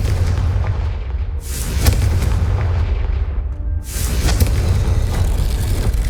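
Two heavy, booming blasts from the Confringo fire spell in Hogwarts Legacy hit a few seconds apart, each a loud, close burst of crackling noise that trails off with a rumbling decay.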